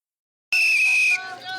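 A single shrill whistle blast announcing the start of a barter market in Togoville, Togo, bursts out of silence, holding a steady high pitch for about half a second before breaking off into a noisy tail.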